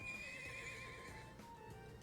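Horse in the video game Trails of Cold Steel gives a loud, sustained whinny up close, with its hooves clopping faintly underneath throughout.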